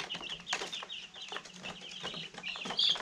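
Meat bird chickens clucking close by, a busy overlapping chorus of short clucks and chirpy calls that continues steadily with no pauses.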